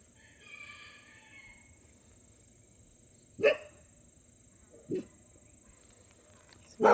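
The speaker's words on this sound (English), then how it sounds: "the dogs are barking" Dogs barking outdoors near a farm garden and driveway, three separate loud barks spaced a second or more apart, with rooster crowing faintly early on.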